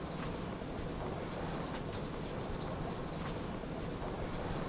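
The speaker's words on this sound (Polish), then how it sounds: "tu jest pociąg" Train in the PSP video game Daxter, set in a metro, a steady loud broadband rumble with faint rhythmic rail clatter, continuous and close.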